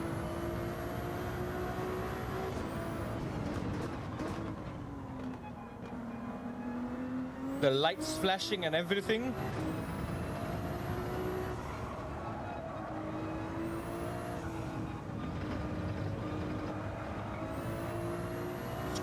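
Ferrari 296 GT3 race car in Gran Turismo 7 droning steadily at a moderate level, with a short run of sharp revving bursts near the middle before easing back, while someone speaks briefly over it.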